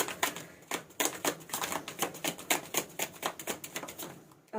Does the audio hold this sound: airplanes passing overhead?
no